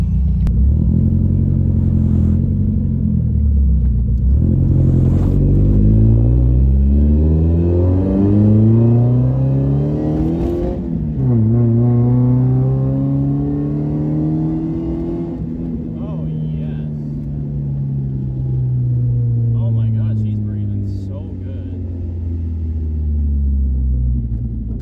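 An NA Mazda Miata engine fitted with a cheap cold air intake rumbles loudly up close, its pitch rising and falling through revs before settling into a low idle, with a voice talking over it.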